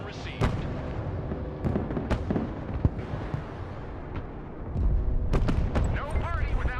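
Artillery fire in the video game Broken Arrow, a string of sharp booming blasts and rumbling impacts over a continuous battlefield din.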